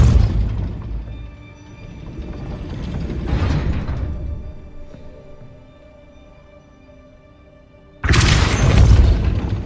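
A Repulsor spell cast in Hogwarts Legacy to raise a gate: a loud sudden burst of force near the end, following a stretch of grinding mechanical gear and ratchet noise with a swell in the middle.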